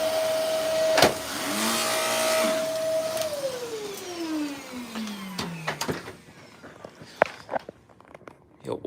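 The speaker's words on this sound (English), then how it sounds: "This vacuum is so terrible." A vacuum cleaner, poorly working, whines at a steady pitch and then winds down, the tone sliding lower as the motor slows, followed by scattered knocks and clatter close by, with no talking.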